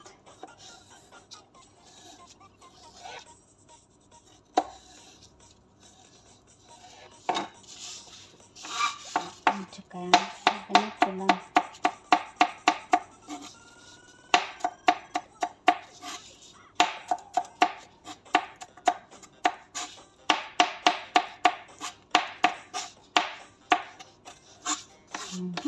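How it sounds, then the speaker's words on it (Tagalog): A knife chopping cucumber into small pieces on a board for a yogurt cucumber salad: sparse cuts at first, then steady rapid crisp taps in bursts, close and clear. "Ngayon, cut ko siya ng maliit-liit."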